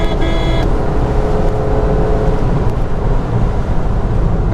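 Maruti Suzuki Ignis facelift with an AMT gearbox accelerating near 120 km/h, its sporty engine note blending into a loud, steady rush of cabin and road noise that holds evenly throughout.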